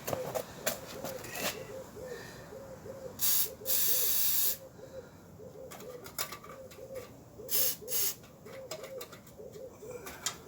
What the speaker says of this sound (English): I'm going to get my WD-40 for that linkages